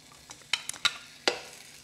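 Garlic hitting hot oil in a skillet, giving a few sharp crackling pops and a short burst of sizzle, close and brief, with a faint hiss underneath.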